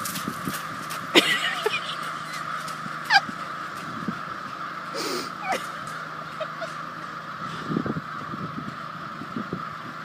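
A flock of crows in snowy Maine caws repeatedly, harsh calls rising and scattering at moderate distance as the birds fly away, with people talking intermittently underneath.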